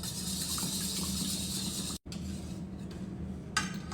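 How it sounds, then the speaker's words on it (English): Heavy cream pours steadily into a bowl of eggs with a soft continuous liquid hiss, then a brief break and faint clinks of the bowl near the end. "I'm going to add 2 cups of heavy cream"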